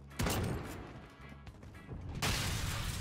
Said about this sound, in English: Oh my god, explosion.